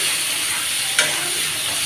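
Prawns fry in a pan with a steady, close sizzling hiss, broken by a single quick scrape of a stirring utensil midway, with no voices.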